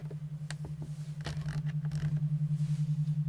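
A quiet binaural-beat healing tone, a steady low hum pulsing in slow regular swells, runs throughout with faint creaks and clicks scattered over it.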